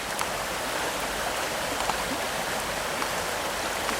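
A wild urban trout stream pours heavy water into a deep hole, a steady close rushing wash with faint splashes, with no talking.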